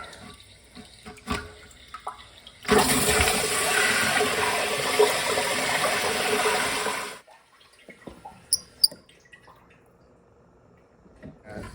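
Water from a faucet pours steadily into a toilet tank for about four seconds, then stops, leaving quiet handling clicks and a few drips before and after.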